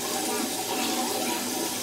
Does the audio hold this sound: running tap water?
yes